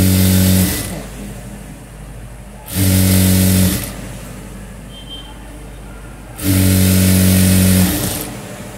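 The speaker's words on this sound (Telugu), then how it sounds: "రెండో చేయి కూడా ఇలాగే స్టిచ్ చేసుకోవాలి" A sewing machine stitches a double-folded sleeve hem in three loud, close bursts of steady motor whir, with quiet pauses between runs while the fabric is repositioned.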